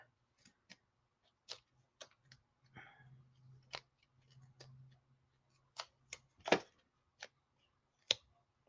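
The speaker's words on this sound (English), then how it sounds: "I'm going to grab me a couple pieces of tape." Short strips of tape are pulled and torn off a roll as a storage box is packed, heard as sparse, quiet ticks and snaps with a brief soft rip in between.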